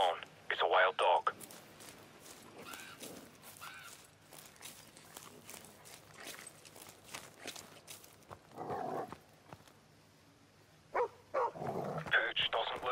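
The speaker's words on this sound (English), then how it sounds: "Leave it alone. It's a wild dog." A wild dog barks and growls in the Call of Duty: Modern Warfare Remastered campaign, a few loud, close bursts at the start and end with quieter stretches between, while voices talk.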